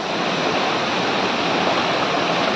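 The hidden Ranpat waterfall in the Konkan, a loud, constant roar of falling water heard close up with no break.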